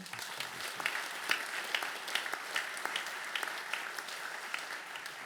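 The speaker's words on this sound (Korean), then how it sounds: "우리 힘찬 격려의 박수 한번." A church congregation at a special autumn dawn revival service claps together in encouragement, a steady, fairly soft wash of applause with distinct individual claps popping out, heard from a distance.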